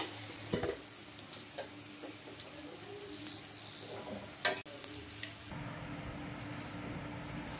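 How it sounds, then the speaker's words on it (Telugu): Moong dal kachori frying in oil over a low flame, giving a continuous soft sizzle and bubbling with a few faint clinks, close by and steady throughout. "మనం లో ఫ్లేమ్లోనే పెట్టి కాల్చుకుంటే క్రిస్పీగా వస్తాయండి ఈ కచోరీ అయితే"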